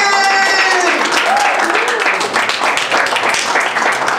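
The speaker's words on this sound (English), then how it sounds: "Give a great round of applause for Tommy Nicoletti!" Audience applause and cheering for a comedian at a comedy show, a dense steady wash of clapping that fills the whole stretch, with voices mixed in.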